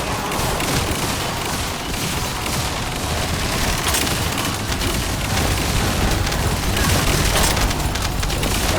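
Drone explosions in The First Descendant, a sustained barrage of loud booms and rattling gunfire that rolls on unbroken for several seconds, heavy and close, swelling slightly toward the end.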